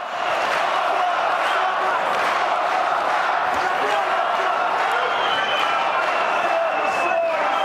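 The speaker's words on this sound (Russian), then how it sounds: "Молдова, Молдова раздается в зале" A packed indoor arena crowd at a heavyweight (+93 kg) KOK World GP 2015 kickboxing bout in Chișinău chants loudly and steadily for Moldova, a dense roar of voices sustained for the whole stretch.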